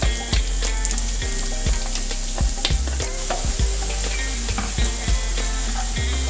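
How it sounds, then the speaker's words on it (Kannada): Ground masala paste with green chillies and curry leaves fries loudly in oil on a medium flame for mango rice, giving a continuous close sizzle broken by regular scraping stirs of a spoon. "ಮಸಾಲೆ ಸ್ವಲ್ಪ ಎಣ್ಣೆ ಬಿಡೋವರೆಗೂ ಫ್ರೈ ಮಾಡ್ಕೊತಾ ಇರಿ."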